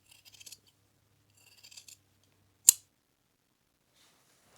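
Fabric scissors making one sharp, close snip while cutting pieces for a flat cap brim, after some faint soft rustling and handling noise, with no talking.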